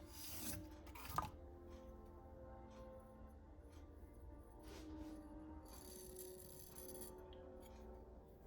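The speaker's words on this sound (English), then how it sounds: "We'll use a rougher abrasive to hone it." A knife blade of MagnaCut steel is honed on a rough abrasive with quiet, intermittent rasping strokes, with one sharp clink early on, close and faint.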